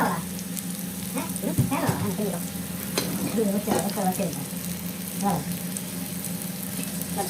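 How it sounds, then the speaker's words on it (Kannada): Cumin seeds hit hot oil for a curry tempering, setting off a loud, dense sizzle with bursts of crackling and some stirring. Faint voices can be heard beneath it now and then. "ಸ್ವಲ್ಪ ಜೀರಿಗೆ ಹಾಕಿದರೆ ನಮ್ಮ ಒಗ್ಗರಣೆ ರೆಡಿ ಆಗ್ತದೆ"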